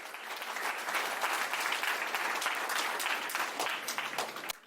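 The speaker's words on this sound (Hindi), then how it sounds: "ऐसे में तो ताली बहुत बजती है" An audience applauds at a talk honouring Dr. Khadar Vali, the Millet Man of India, with dense, steady clapping that holds at a fairly even level for nearly five seconds before tapering slightly at the end.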